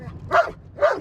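A shed dog lets out two sharp, excited barks about half a second apart, close and fairly loud, with no talking over them.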